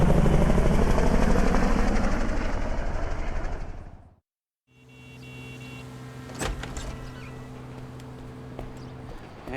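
A GTA Online helicopter lifts off, its loud rotor thrum and engine whine swelling, then cutting to brief silence before a quieter cabin hum with a sharp clank and steady tonal drone.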